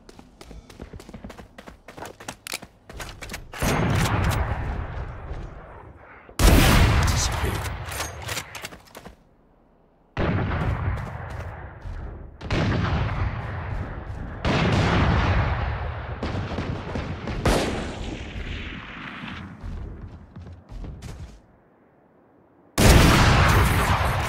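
Operator sniper rifle shots in the Valorant video game: a string of loud, sharp single blasts, each followed by a long ringing decay, spaced a few seconds apart with quick clicks and clatter in between.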